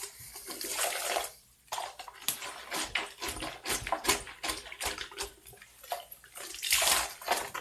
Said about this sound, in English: I'm going to whisk that around a little bit more